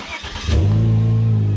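A Volvo S60 T6 with an LY6 engine fires up and settles into a loud, deep, steady idle close by, with a brief rise just before it catches and no talking.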